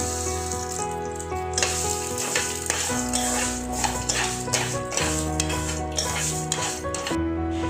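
Whole black peppercorns and moong dal frying in oil in a pan, a continuous close sizzle with a spoon repeatedly stirring and scraping the pan, no speech.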